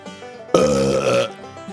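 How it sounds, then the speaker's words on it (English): A single loud, wet belch bursts out close and alone, holding for most of a second before trailing off. "they get the wet belch"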